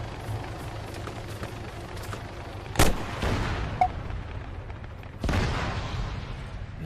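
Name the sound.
MAAWS recoilless rifle shot in Arma 3 video game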